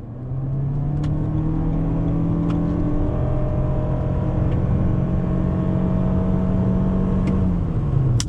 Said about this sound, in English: with the CVT transmission, it does hold the revs from the naturally aspirated engine